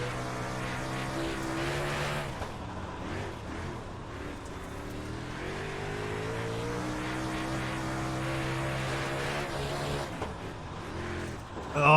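A super late model dirt car in iRacing roars steadily with a sustained engine note that rises and falls through throttle changes, loud and continuous for the whole stretch, with a sharp surge at the end.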